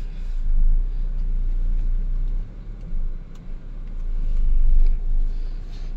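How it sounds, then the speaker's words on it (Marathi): A car reverses in place and brakes, giving a steady low engine rumble heard from inside at close range, with slight swells and dips in level and no talk. "जागेवरच रिव्हर्स घ्यायची. थोडं ब्रेक दाबूयात आपण."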